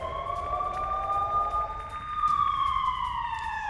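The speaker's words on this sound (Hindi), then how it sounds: "हमले के वक्त किस तरह से पूरे इजराइल में सायरन गूंजते नजर आए" Air raid sirens wail across Israel during an Iranian attack, loud and sustained tones that slowly rise and fall with several overlapping pitches, heard with no talk.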